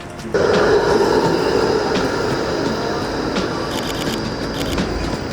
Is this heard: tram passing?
yes